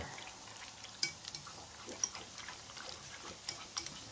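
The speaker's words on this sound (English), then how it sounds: "now we just have to finish up sauteing the kale and the asparagus" Kale and asparagus sauté in a pan with a faint, steady sizzle, punctuated by light, irregular clicks and taps of stirring.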